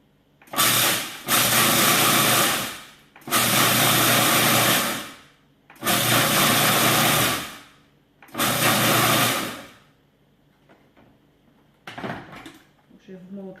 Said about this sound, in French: Je vais les mets dans le robot culinaire avec la lame S.